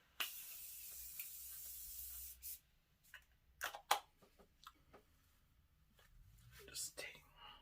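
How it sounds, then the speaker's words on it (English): A brief hiss of Morphe Continuous Setting Mist sprays steadily for about two seconds over finished makeup, followed by quieter rustling and soft handling sounds. "I'm just going to hit it up with some finishing spray"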